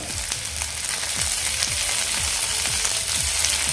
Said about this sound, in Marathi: लसूणसुद्धा आपला या ठिकाणी ब्राऊन लाल झालेला आहे आता यामध्ये आपण टॉमॅटो घालूया